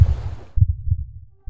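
Close, heavy heartbeat thuds, low and muffled, beating in a steady pulse of about four beats with a brief wash of higher noise at the start, no voices.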